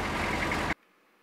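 A truck engine rumbles loud and steady, a broadband drone that cuts off abruptly about three quarters of a second in, leaving near silence.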